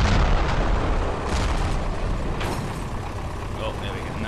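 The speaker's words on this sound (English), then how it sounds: "the tank got blown up anyway" A tank blows up in the Ravenfield video game, a loud, broad rumbling blast that hits at once and then slowly fades into a lingering roar.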